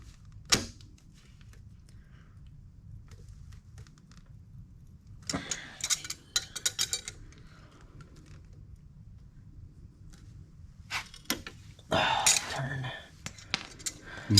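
A wrench turns a poorly welded bolt on a Ford Mustang until it snaps, heard as sparse metallic clinks and scrapes with a sharp crack and clatter near the end, close up in a quiet garage.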